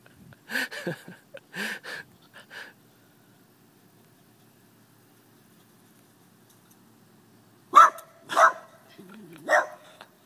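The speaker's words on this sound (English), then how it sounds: "He'll sit and bark at a bird." A dog barks in two short clusters of sharp, close barks, separated by several seconds of near silence, outdoors near a scarecrow.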